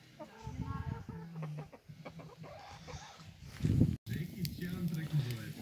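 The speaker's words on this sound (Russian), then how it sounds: "Тут куры к нам в гости пришли." Several chickens cluck close by in short repeated bursts, with people talking over them and a few footsteps, outdoors beside a campfire cooking pot.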